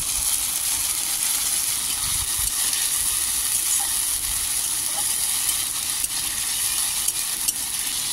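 Spiced masala with chillies and ginger-garlic paste frying in a pan, a continuous close hiss and sizzle with a few faint clicks of stirring, no voices.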